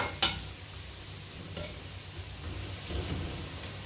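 Onion, tomato and garlic frying in a very hot pan while being stirred, a steady close sizzle with a few scraping stirs of the spoon breaking through it, no talking.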